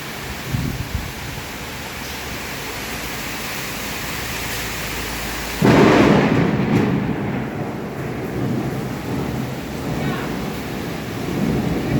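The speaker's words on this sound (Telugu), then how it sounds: "భారీ ఉరుములు నడుమ భారీ వర్షం కురుస్తున్న" Heavy rain hisses steadily on flooded roads in Hyderabad, then a sudden loud rumbling burst of thunder rolls through before the downpour continues.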